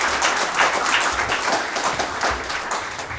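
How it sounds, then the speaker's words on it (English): Audience applause at a community hearing on military spending, a steady patter of many hands clapping for a few seconds at moderate, slightly distant level. "A round of applause quickly for Bruno."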